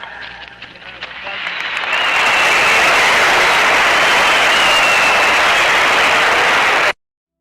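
Crowd applause for Babe Ruth at Yankee Stadium in 1947, a dense roar of clapping and cheering that swells after a couple of seconds into a loud, sustained wall of noise before cutting off abruptly.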